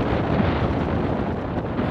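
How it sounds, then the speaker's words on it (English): Steady, heavy wind roaring and buffeting close to the microphone at an outdoor ultimate frisbee match, a continuous broadband rush with no breaks. "Wind picking up significantly now."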